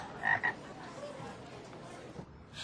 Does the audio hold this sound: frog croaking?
yes